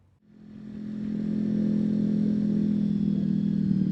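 A 1999 Honda VFR motorcycle lapping the Nürburgring Nordschleife at night, its engine note swelling from near quiet into a loud, steady onboard drone that holds for several seconds with no talk.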